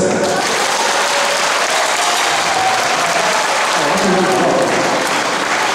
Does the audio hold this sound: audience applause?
yes